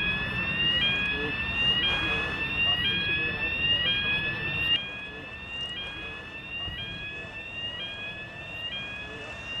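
A workplace fire alarm sounds repeatedly with rising electronic sweeps in a steady cycle, moderately loud over background noise and indistinct voices.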